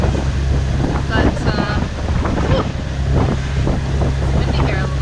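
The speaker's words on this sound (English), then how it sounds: "it's windy here a little bit" Gusty wind buffets the microphone at the helm of a canal boat on a day working through locks, a steady rumbling roar with soft water and engine tones beneath, no speech.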